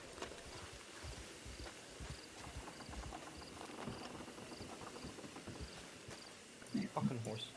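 Horse hooves clip-clop steadily in a video game, a soft rhythmic patter under chirping insects, with a brief louder thump near the end.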